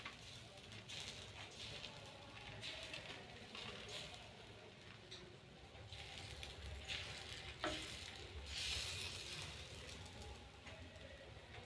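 Rava dosas sizzle steadily on a hot pan, a continuous moderate frying hiss with light crackles throughout, fairly close and with no talk over it.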